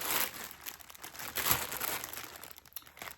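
A plastic pack holding a modular progressive pride flag craft kit crinkles and rustles close by, a continuous crackling handling noise that swells and fades without speech.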